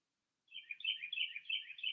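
A small bird chirps in a film soundtrack, during a quiet scene of a feather drifting through the frame. A quick run of bright, repeated tweets, close and clear, fills the last second and a half with no other sound.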